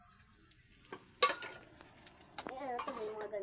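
A frying pan (kawali) is handled and washed in a home kitchen, with a sharp metallic clink and some scraping clatter, followed by a voice speaking briefly.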